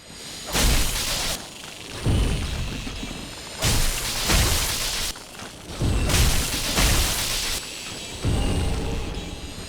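Black firebombs in Dark Souls 3 burst in a string of whooshing, roaring explosions, several heavy blasts coming in pairs with crackling fire between them, loud and close.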